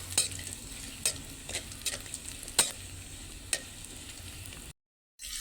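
Anchovies frying in hot oil for sautéed moringa leaves, a steady close sizzle broken by several sharp stirring clicks and scrapes, cutting out briefly near the end.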